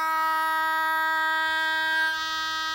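Data signal tone from a transmitter's programming jack, a steady buzzing multi-tone drone held loud and unchanging throughout, close and alone with no voices.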